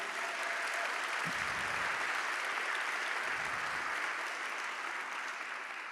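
Audience applause for the MPB team at a CreativeMornings talk in New York, a steady wash of distant clapping throughout, fairly faint and even.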